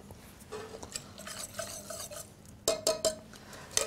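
A metal whisk scrapes and taps beneath a kitchen sieve while soup solids are pushed through, giving light, irregular scratchy strokes and a few sharper clinks near the end, close and fairly quiet with no talking.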